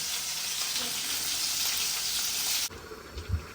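Fish frying in a pan with a loud, continuous sizzle that holds steady, then cuts off abruptly near the end and leaves a few quieter clinks and low thumps.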